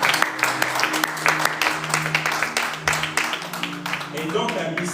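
A church congregation applauds and claps during a French-language worship service, a dense continuous patter of hands over sustained organ or keyboard tones, with voices mixed in.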